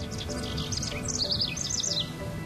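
Bird song: bright, repeated chirping phrases trill in quick succession over a soft, steady background murmur, clear and fairly close.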